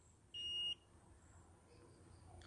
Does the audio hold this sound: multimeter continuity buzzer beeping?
yes